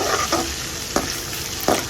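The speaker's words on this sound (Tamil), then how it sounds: "இதெல்லாம் போட்டு நல்லா வதக்கி கொடுத்துடலாம்" Green chilies and other ingredients sizzle softly in hot oil in a pan, with a few brief scraping stirs breaking through the steady frying hiss.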